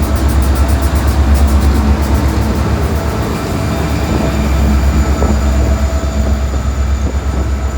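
A heavily powered freight train loaded with grain rumbles through a new railroad crossing at close range, its loud, continuous roar of wheels and cars carrying steady rail clatter and faint high squeals throughout.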